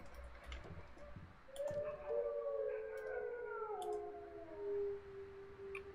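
Dogs howl in a horror video game, several long wavering howls overlapping and rising and falling, set against faint clicks and ticks, with no talking.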